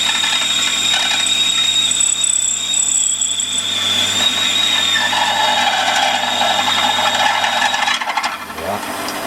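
A 14.5 mm drill bores into metal on a Warco lathe, giving a continuous grinding, rattling mechanical whine with steady high squealing tones, loud and close, easing off and shifting near the end, with no voices.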